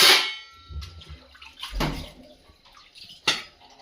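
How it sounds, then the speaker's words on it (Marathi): Dishes being washed by hand under running water, with short splashing bursts of water and soft clinks of utensils, close by. "आता इथे भांडे घासते"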